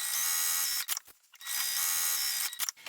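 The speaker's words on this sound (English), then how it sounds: "So now let's go ahead and sew across these short ends." A sewing machine stitches across the short ends of a fabric Sew Together Bag, running in two steady mechanical bursts with brief pauses between them, fairly close and without any talking.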